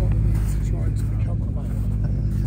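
A car stuck deep in snow, buried up to the windscreen, gives a loud, close engine rumble and revving throughout, with people's voices over it.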